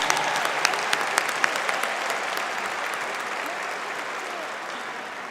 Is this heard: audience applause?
yes